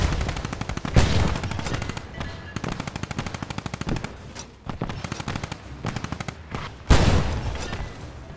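Video game gunfire in Post Scriptum, a World War II shooter: rapid machine-gun bursts in loud, dense rattling runs, punctuated by two heavy close shots.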